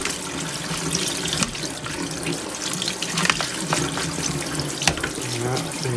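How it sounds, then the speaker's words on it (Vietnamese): Cold tap water runs steadily into a sink to rinse a pot of boiled chicken, a continuous close splashing stream with occasional clinks and sloshes. "xả nước lạnh đi, rửa sơ qua"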